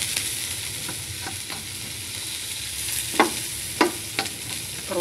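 Garlic and onion sauté in a hot pan with a continuous, close hiss of sizzling oil, broken by a few sharp scrapes and taps of a spatula stirring near the end.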